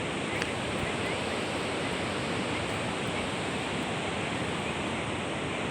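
River water flowing in a continuous, even rush of broadband noise, loud and close, with no voices and no change across the whole stretch.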